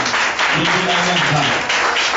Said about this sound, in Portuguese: Dê uma linda salva de palmas, irmãos